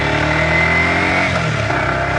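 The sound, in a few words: Yamaha YZF-R125 motorcycle accelerating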